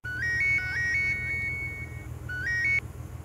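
A phone's electronic ringtone plays in short repeating melodic bursts, fairly close, over a low background hum.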